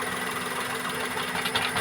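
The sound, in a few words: Maruti Wagon R K-series engine misfiring, jerking with third cylinder loosened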